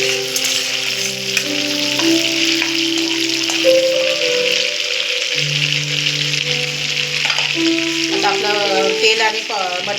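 Oil and butter heat in a pan for pav bhaji, giving a steady, hissing sizzle beneath a louder layer of background music, with no break across the whole stretch.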